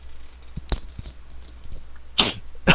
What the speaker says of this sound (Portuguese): Eu não espirrei, eu tossi